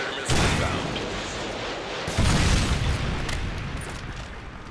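Predator missile explosions in Call of Duty MW3 on the Terminal map during team deathmatch: a heavy booming blast, then a second deep rumbling explosion that slowly decays, both loud and close.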